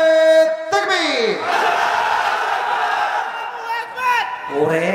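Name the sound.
crowd shouting takbir (Allahu Akbar) at a religious sermon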